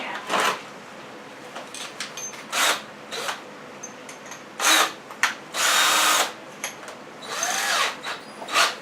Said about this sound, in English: so let me get drill ready